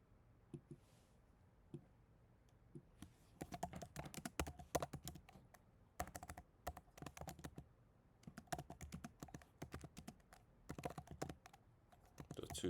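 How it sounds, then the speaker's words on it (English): Typing on a computer keyboard, a quiet close-up patter of key clicks in several quick bursts separated by brief pauses, with no voices. "So I'll type it out."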